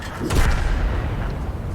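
Artillery fire from a World of Tanks match, a single heavy boom firing a high-explosive shell followed by a rumbling decay, loud and close.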